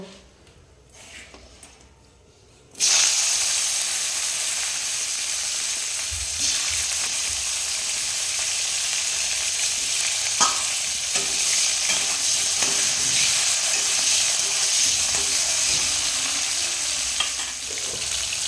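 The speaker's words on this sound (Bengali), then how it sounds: "এবার উচ্ছেগুলো ভেজে নেব।" Bitter gourd pieces frying in hot oil, a sudden loud sizzle bursting in after a quiet start and then hissing steadily on, with occasional stirring clicks and scrapes.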